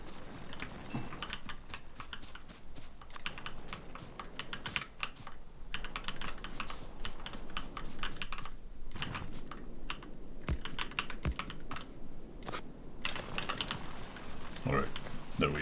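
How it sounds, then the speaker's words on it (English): Fast, close clicking of a computer keyboard, irregular bursts of keystrokes that pause and resume, fairly quiet throughout, with occasional speech mixed in. "I am sorry if it's just a very annoying keyboard"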